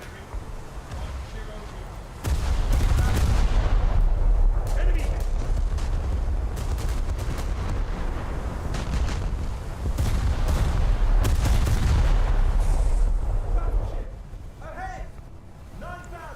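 Torpedo impacts and other blasts rumble in a naval warfare video game, a deep, sustained roar of explosions with scattered sharp reports, rising twice and then dropping away, while someone talks over it.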